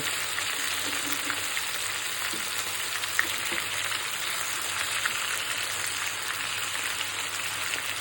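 Beef chaap fries in a pan with a continuous hiss and crackle, broken by small pops and a faint stir or two, and nobody speaks.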